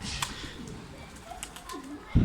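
Young pigeon chicks in a loft give soft, low cooing calls amid faint rustling, close but quiet, ending with a brief thump.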